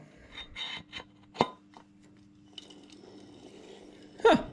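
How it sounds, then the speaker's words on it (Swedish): A hand file rasps against a metal part of a 100cc Aerox scooter engine in a few short, separate strokes, fairly close. Quieter scraping and a faint hum fill the gaps between strokes. "Se om jag slipar tillräckligt bra nu då."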